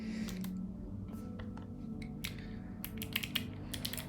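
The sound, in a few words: typing on a computer keyboard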